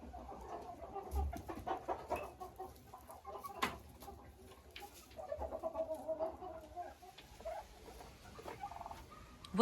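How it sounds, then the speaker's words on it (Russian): Hens and roosters cluck in a steady, scattered chorus at close to middle distance, with some low background noise and no talking. "Вот такие курочки и петушки живут вместе с индюками."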